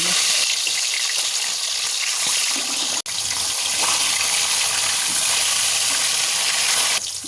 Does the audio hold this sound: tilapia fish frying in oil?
yes